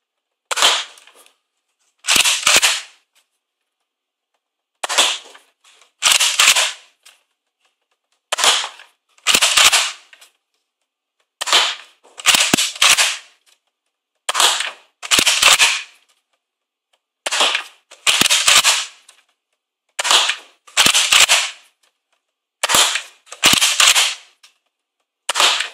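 Modified Nerf Retaliator blaster fired twelve times over a chronometer, each shot a sharp, loud pop heard alone, arriving in pairs of pump-and-fire sounds spaced a couple of seconds apart.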